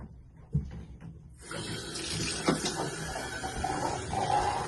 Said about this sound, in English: You see that leaking right there?